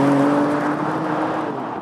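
BMW M4 Competition, a 510 bhp coupe, with its engine pulling steadily under hard acceleration, a loud continuous drone with a steady tone close by and no talk over it.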